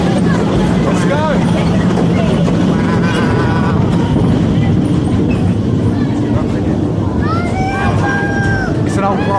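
The old Egg-Spress rollercoaster at Pleasurewood Hills runs loud, heard from the front row: a continuous rattle and rumble of the train on its track. Riders' voices and squeals ride over the noise throughout.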